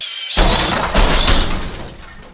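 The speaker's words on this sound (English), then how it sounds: "watch the quad crash into the screen door" A small sub-250 Huma 20 FPV quadcopter drone crashes into a screen door with a sudden loud, close smash. A rattling, noisy clatter follows and fades over about two seconds.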